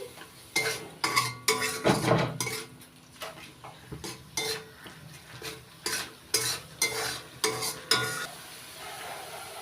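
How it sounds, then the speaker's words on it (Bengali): Masala with salt being stir-fried in a pan for a cauliflower paneer dish, with repeated scraping and clinking strokes of a spoon against metal over a soft sizzle, close and steady. "এবার দিয়ে দিচ্ছি স্বাদ মতো লবণ মশলাটা ভালো করে কষিয়ে নিচ্ছি"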